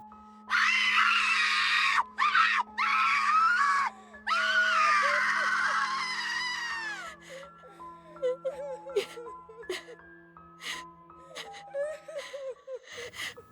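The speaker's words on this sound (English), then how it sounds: "A scream of anguish tore through the heavens." A woman's long, loud scream of anguish, wailing in several drawn-out bursts, then fades into sobbing whimpers over a sustained dramatic musical drone.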